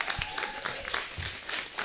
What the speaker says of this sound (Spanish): Quiero que reciban con un fuerte aplauso a la primera comediante